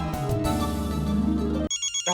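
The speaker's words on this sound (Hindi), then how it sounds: "एक मिनट, फोन है।" A loud electronic mobile phone ringtone plays as a melodic tune in a TV comedy scene, then breaks off into short repeated ringing bursts.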